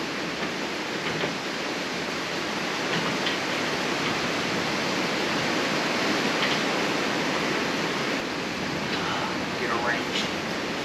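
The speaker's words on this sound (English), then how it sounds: "I hope you guys can hear me okay, because it's pouring down rain" Heavy rain pouring down in a steady, dense roar of broadband noise, loud and continuous throughout with faint knocks under it.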